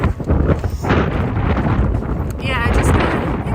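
Strong wind on a mountain trail of the Pacific Crest Trail roars continuously and buffets the microphone hard, with a person talking under the gusts.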